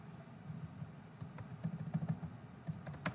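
Quiet keyboard typing on a computer, a patter of light key clicks that builds into a quicker run toward the end, with a soft steady hum underneath and no talking.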